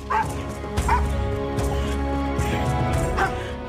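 A military dog barks repeatedly in a steady rhythm, close and fairly loud, with several distinct barks spaced about a second apart over a low background hum.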